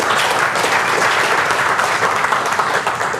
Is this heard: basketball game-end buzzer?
no